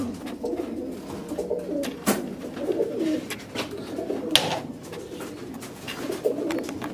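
A pair of Markor pigeons coo close by, soft low throaty calls repeating under scattered sharp taps and rustles of a pigeon loft, with no talking.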